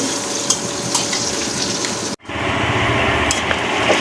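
Onions and green chilies sizzle in hot oil, a steady broadband fry that cuts out abruptly for a moment midway, then resumes louder with spatters and stirring; no one speaks.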